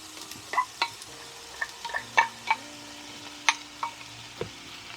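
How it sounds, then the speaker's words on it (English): Onions fry softly in a pan on a low-wattage hot pot in a campervan, with a low background sizzle broken by intermittent scraping and clinking taps of a utensil stirring. "those onions are cooking nicely, so I'm now going to add some chopped up mushrooms"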